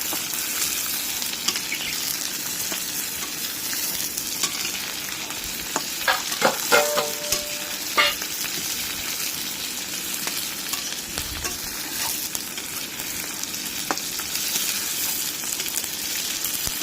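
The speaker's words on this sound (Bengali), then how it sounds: "ভালো করে নেড়ে নিচ্ছি" Chicken and onion fry in a pan and are stirred, a steady close sizzle throughout with scattered scraping and clinking strokes of the spoon in the middle.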